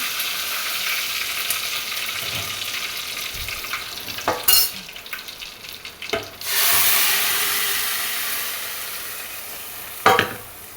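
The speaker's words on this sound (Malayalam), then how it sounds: "കടുവും അതുപോലെ കറിവേപ്പില ഉണക്കമുളകും കൂടെ ഇട്ടിട്ട് വറവിട്ടെടുക്കുകയാണ്" Mustard seeds, curry leaves and dried red chillies sizzle and crackle in hot oil for a tempering, a steady close frying hiss with sharper bursts as ingredients drop in and are stirred, no voices.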